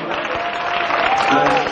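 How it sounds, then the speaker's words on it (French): An audience claps steadily, a dense wash of applause from a crowd filling the whole moment. "applaudissements pour Limachel"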